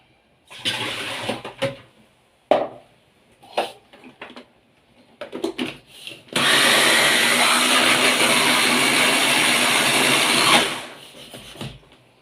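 Electric meat grinder mincing a long loaf of water-squeezed bread with onion, a steady dense motor whir running about four seconds after some scattered kitchen clatter and short bursts.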